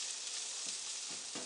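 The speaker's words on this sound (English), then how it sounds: "we have achieved sizzle in the pan. So I'm going to start off with dropping that cup of diced onions." Steady, close frying sizzle of diced onions in a hot pan, a constant crackling hiss with a few soft stirring bumps.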